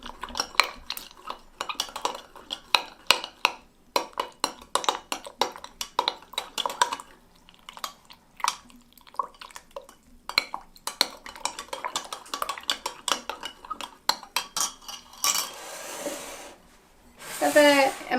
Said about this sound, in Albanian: Edhe i përzim.